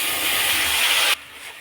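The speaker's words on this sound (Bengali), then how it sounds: "তেল গরম হয়ে গেছে, এবার মশলাটা তেলের মধ্যে দেওয়া হলো।" Spice paste of ginger, garlic, tomato, chilli and onion dropped into hot oil, a loud steamy hiss and sizzle that drops sharply to a quieter simmer after about a second.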